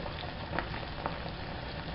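Hot oil sizzles steadily as chicken thighs fry in a cast iron skillet, a dense crackling hiss with a couple of sharper pops, close and even throughout.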